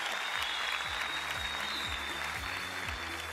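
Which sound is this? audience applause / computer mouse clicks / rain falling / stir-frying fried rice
audience applause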